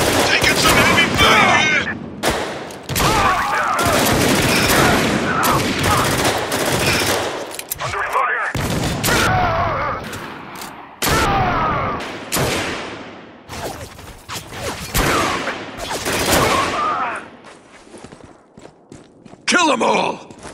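Heavy gunfire in the video game Spec Ops: The Line erupts in loud, close bursts of automatic fire with short pauses, mixed with battle effects, grunts and soldiers' shouts.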